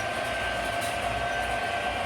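An MTH toy train on conventional power runs along its track with a steady, continuous rumbling whir that stays loud and even throughout, with no voices.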